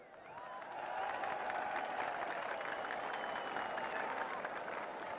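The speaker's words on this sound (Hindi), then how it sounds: "अपने मेहमानों का, लीडरशिप का भरपूर तालियों से इस्तकबाल करें।" Large outdoor crowd at a PTI political rally in Gujranwala applauding to welcome guests and leadership, a steady distant wash of clapping and crowd noise that swells after the first second and holds.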